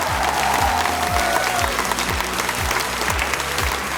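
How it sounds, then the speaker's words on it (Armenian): A studio audience at a televised talent show gala applauds the performers, a loud sustained roar of clapping with a crowd murmur, while a steady low musical beat pulses underneath. "Կիլիկիա երգի գեղեցիկ կատարման համար կրկին ծափարենք նախագծի մասնակիցներին"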